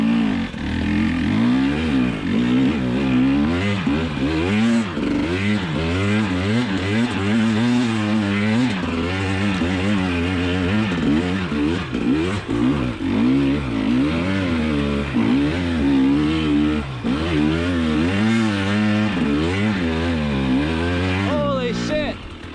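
A KTM 300 XC TPI two-stroke dirt bike climbs a steep trail hill with loud, continuous engine revving that rises and falls in pitch as the throttle is worked, close and steady throughout.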